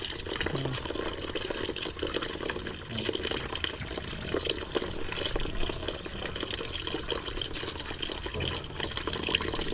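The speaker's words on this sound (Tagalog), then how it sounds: "Medyo mahina lang talaga ang tubig dito. Dito sa gripo na to." A weak trickle of water runs from an outdoor tap set into the ground beside a hut, a faint, continuous splashing flow that stays steady throughout with no talking.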